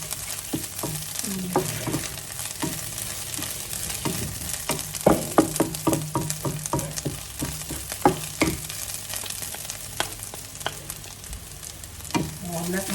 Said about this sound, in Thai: เราต้องผัดพริกแกงก่อนนะคะ